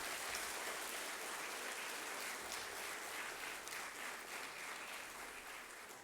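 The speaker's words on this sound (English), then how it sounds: "let's clap for this institute and for ourselves" A large auditorium audience claps steadily at a foundation day celebration, a dense, even wash of applause that holds strong for several seconds before easing slightly at the end.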